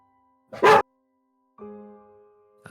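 A dog gives a single sharp bark, then after a pause lets out a drawn-out whine or whimper, both fairly close against an otherwise quiet room.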